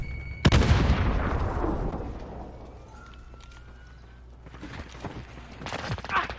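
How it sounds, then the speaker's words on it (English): Grenade explosion and gunfire in Call of Duty Modern Warfare: a loud, sudden blast with a rumbling decay, followed by quieter distant shots and scattered cracks toward the end. "Grenade out!"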